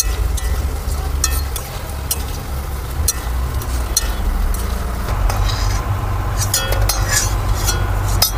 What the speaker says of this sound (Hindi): अब बनाते हैं तिलौरी को छानते हैं तेल में